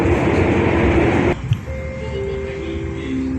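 Inside a Jaka Tingkir new generation stainless steel passenger train, a loud rumbling roar of the carriage in motion drops suddenly to a quieter steady hum, with a faint tonal whine lingering afterward.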